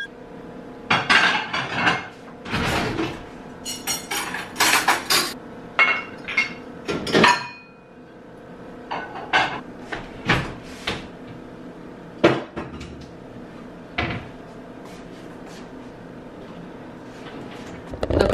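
Dishes being loaded into a home dishwasher in a kitchen: a run of sharp clinks, clatters and knocks of plates and cutlery, dense at first then sparser with pauses, close and fairly loud, no speech.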